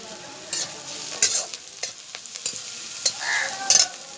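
Crushed ginger and garlic frying in a little oil in a pot for chicken stew, heard as a soft, close sizzle broken by several brief stirring scrapes.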